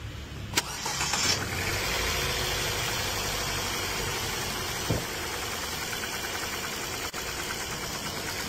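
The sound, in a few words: car engine starting and idling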